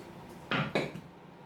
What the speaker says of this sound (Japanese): タコを食べやすいサイズに切っていきます。